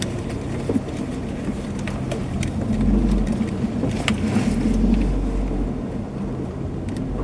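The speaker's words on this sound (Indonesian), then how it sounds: "Atau mending kita parkir di sini aja ya." A car moves slowly into a parking spot, its engine a steady low rumble that swells briefly in the middle and then settles, heard from inside the car with faint small knocks and no clear talk.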